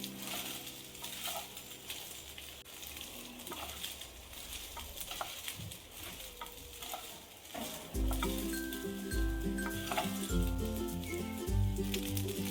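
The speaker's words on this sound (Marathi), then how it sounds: "तर फ्रेंड्स, अशा प्रकारे मी छान असं मिक्स करून घेतले भात" Rice being stirred and fried with cumin seeds in a pan, a steady sizzle with scraping stir strokes, growing louder and busier halfway through as the pan is worked harder; no talking.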